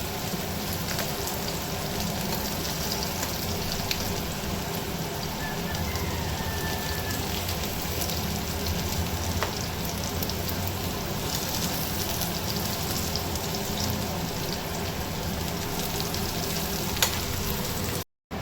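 Potatoes and onions fry in a pan with a dense, continuous crackling sizzle that holds steady and close, resembling rain, then stops abruptly at the end.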